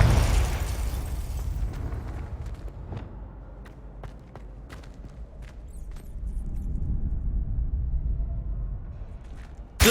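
Fiery spell blasts in the Hogwarts Legacy video game: a loud booming burst opens, then a run of sharp pops and impacts crackle over a rumbling low roar of combat with no voices.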